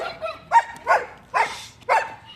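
Several dogs bark out in a street, giving five sharp, close barks in a fairly even rhythm with short gaps between them.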